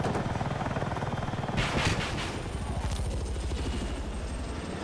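An attack helicopter in Battlefield 6 drones steadily with a loud, pulsing rotor chop throughout, joined by a burst of gunfire or explosion noise partway through.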